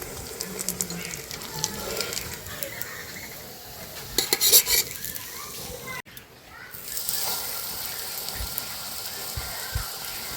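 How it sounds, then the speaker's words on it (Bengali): Semolina and green pea tiffin sizzles steadily in a small amount of oil in a pan, with occasional clinks of a utensil and a faint voice in the background. "খুবই অল্প তেলে কিন্তু ভাজা হয়ে যায়।"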